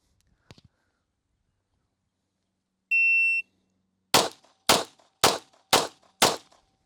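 Five handgun shots fired one-handed with the left hand, spaced evenly about half a second apart, each a sharp loud crack; a brief electronic timer beep sounds before them.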